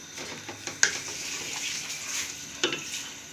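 Washed, strained, still-cold cauliflower fries in a hot pan over a high flame for ginger gobhi gosht, a steady close sizzle broken by a few sharp clatters of stirring against the pan.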